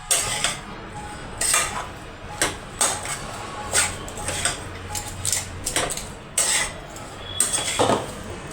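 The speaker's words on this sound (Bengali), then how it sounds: "গুড়ের সঙ্গে নারকেল কোড়াটাকে ভালো করে একটু পাক দেব।" A spoon scraping and knocking against a pan while grated coconut is stirred with jaggery, a series of irregular metallic clinks and scrapes with quieter gaps between.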